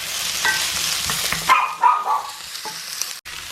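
Peppers and shallots frying in a pan for a Mediterranean cod dish, a moderate sizzle with utensil clatter that fades to quieter crackling, a few short tonal squeaks in between.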